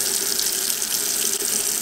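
Water steadily draining and splashing from a pot of diced potatoes into a sink, a continuous close rushing flow with no talk.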